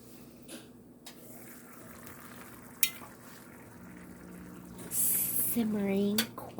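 A covered pot of homemade rice pilaf simmers with a soft bubbling hiss, becoming louder and busier toward the end, with a few light clanks nearby.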